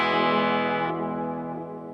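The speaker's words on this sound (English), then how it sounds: "that's a Quiet Theory Prelude. Reverb on one side, delay on the other?" A guitar chord rings through a Quiet Theory Prelude pedal set for reverb and delay, a loud, sustained wash that slowly fades with a soft ambient tail, no voices.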